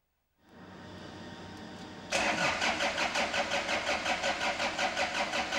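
An engine cranks over with a whirring starter for a couple of seconds, then fires and settles into a loud, rhythmic, pulsing run, heard close up and alone.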